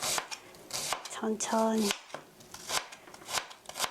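A knife slices through a thin cheese omelette on a board, giving a few quick soft chopping strokes with brief pauses between them, close and fairly quiet, while a voice speaks briefly in between.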